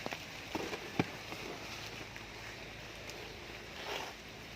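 Steady rain patters on surfaces nearby in a garden, a dense hiss with occasional louder drops and no voices.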